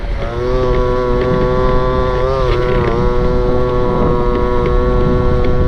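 A Go-Ped scooter engine that sat unused for over fifteen years runs at full throttle on flat ground, its loud, steady buzzing whine holding throughout with a slight pitch dip and recovery midway.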